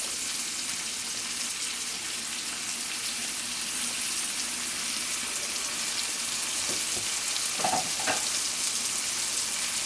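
Spices frying in a pan on medium-low heat for a vegan chickpea curry give a steady, close sizzle throughout, with a few soft stirring scrapes near the end.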